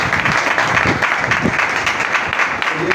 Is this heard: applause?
yes